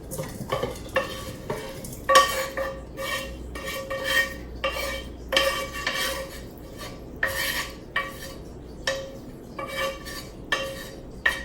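Egg foo young filling with chicken is scraped and stirred from a pan into a bowl, with a steady run of utensil clinks and scrapes against cookware over a faint sizzle, close and fairly loud, with no talking.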